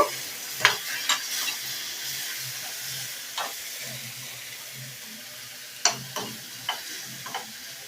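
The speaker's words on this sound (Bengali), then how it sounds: "মিনিট 10 মতন কুমড়োটাকে এই মশলাটা, পোস্ত বাটা আর সর্ষে বাটা দিয়ে একসঙ্গে আমি ভেজে নেব" Pumpkin cooks in a pan with poppy seed paste, mustard paste and a splash of water, giving a soft low sizzle punctuated by several clinks and scrapes of stirring.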